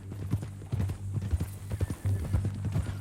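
A horse clip-clops at a walk in Red Dead Redemption 2, with close, uneven hoof thuds repeating throughout at moderate volume and a faint voice in the background.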